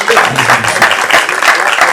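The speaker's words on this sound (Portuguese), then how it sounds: "Um aplauso aos irmãos que fazem a limpeza do salão" A church congregation claps in a Portuguese-speaking worship hall to honor the members who clean it. The applause is a steady, dense patter that holds at an even level for the whole two seconds, with no speech over it.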